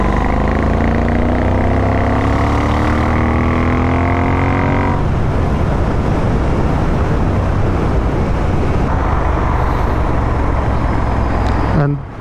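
A Royal Enfield 650 twin motorcycle runs on its stock exhaust with a Powertronic module. The engine note climbs steadily under acceleration and then gives way to a loud, continuous rush of riding noise and wind.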